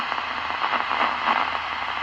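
Radio receiver static at 20 dB quieting, a dense steady crackle like popcorn popping, with faint irregular pops over a continuous hiss, moderately loud and alone throughout.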